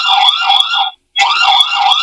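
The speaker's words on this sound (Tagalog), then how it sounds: "So, ganun po kalakas yung alarm niya." A wireless solar-powered V380 Pro CCTV camera sounds its built-in alarm siren, a loud, close electronic wail in two bursts split by a brief gap, with no talking.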